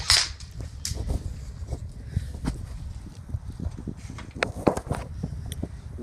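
Airsoft guns fire during an intense outdoor game as a scattered series of sharp snapping shots, some near and loud, others fainter, spread irregularly over a light background.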